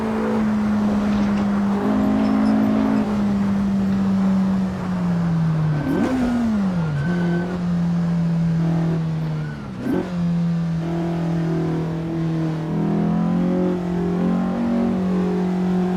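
Race car engine on the 1957 Pescara road course in the Assetto Corsa racing game, a loud continuous drone with gear shifts and revving swells, steady throughout.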